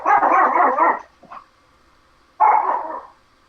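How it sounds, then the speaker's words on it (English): A dog gives two loud, close bursts of rough barking, the second after a short pause, with a brief whine between them. "That was somebody's puppy."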